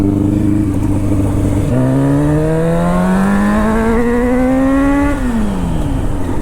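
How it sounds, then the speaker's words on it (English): A Yamaha R1 motorcycle engine catches after a bump start, then revs loud and close, its pitch climbing steadily for several seconds before dropping back to idle. "I'm gonna bump start it."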